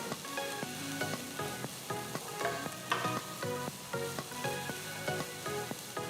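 Thinly sliced onion and garlic fry in a heated pan, a continuous close sizzle and crackle with small irregular pops, moderately quiet and without any voices.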